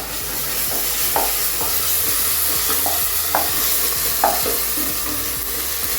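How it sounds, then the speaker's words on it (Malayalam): Ginger, garlic and green chili paste sautéing in a pan for chicken biryani, a steady close sizzle with intermittent scrapes and stirs of a utensil against the pan. "ഇഞ്ചി വെളുത്തുള്ളി പേസ്റ്റ് നല്ലതായിട്ട് വഴറ്റി"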